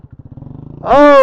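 Kawasaki Z125 Pro motorcycle ridden by a learner: the engine putters in a quick rhythmic idle, then revs up sharply into a loud, rising whine as the rider pulls away and shifts, close by.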